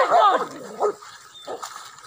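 Hunting dogs bark and whimper during a wild boar hunt in Sijunjung, several close sharp yelps and whines in short bursts, then fainter calls, with people talking nearby.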